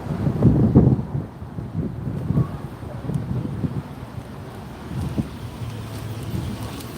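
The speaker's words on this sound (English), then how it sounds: "It's windy out here." Gusty wind buffets the microphone outdoors, with low rumbling bursts that are strongest at the start and then settle into a steady blustery roar.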